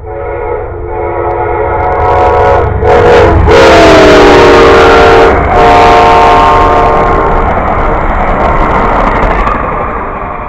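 A train rolls past close and loud, its horn sounding in long, layered blasts over a steady rumble of wheels and cars that swells and then eases off.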